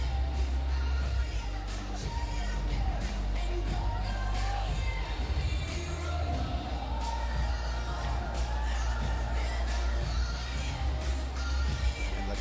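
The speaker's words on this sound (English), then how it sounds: "Crowd really enjoying this fight." A boxing crowd roars steadily through a bout between Donnie Nietes and Sammy Gutierrez, a dense, continuous wash of cheering and shouting with scattered whoops rising above it.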